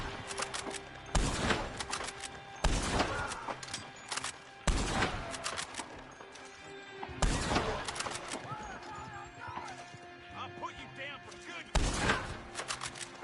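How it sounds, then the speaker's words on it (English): Gunfire in the video game Red Dead Online: repeated loud bursts of shots in clusters with gaps between, some rapid volleys, close and sharp. "Stop shooting me while I'm trying to shoot you"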